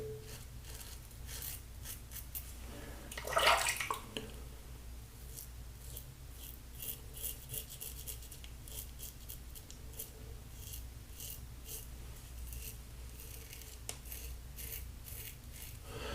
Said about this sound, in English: Definitely a little bit loud, the razor.